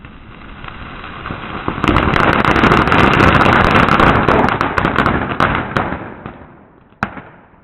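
An Iron Man firecracker going off, a loud, sustained, roaring fizz with dense crackling pops for several seconds that fades out, then one last sharp bang near the end.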